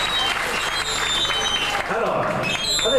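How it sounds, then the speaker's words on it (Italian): Audience applause at a race presentation in Sardinia, a continuous loud wash of clapping filling the whole stretch with faint voices underneath. "facciamo un applauso anche a lei"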